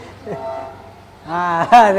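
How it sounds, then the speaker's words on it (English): A passing train sounds its horn in a loud, sustained, multi-tone blast with a brief dip and rise, over a lower rumble and a faint earlier tone. "train"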